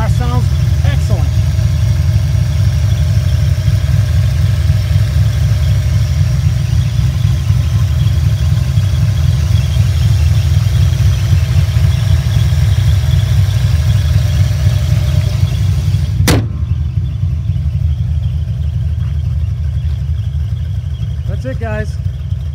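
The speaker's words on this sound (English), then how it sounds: "Car sounds excellent." A 1995 Ford Mustang Cobra R with upgraded internals idles close by, a steady, loud, low rumbling burble that holds even throughout.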